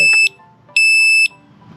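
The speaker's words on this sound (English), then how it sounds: "It was charged completely, but I just plugged it into the USB here, and I'm gonna go ahead and fire it up. And it says if you press it short, it will beep." A small USB-charged electronic gadget gives two loud, sharp high-pitched beeps about half a second apart, close and alone in a quiet room.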